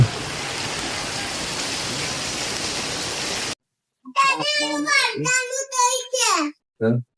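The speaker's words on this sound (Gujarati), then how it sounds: "વરસાદ ચાલુ થઈ ગયો છે" Steady, dense rain hisses loudly for about three and a half seconds, then cuts off abruptly as a child and others begin talking.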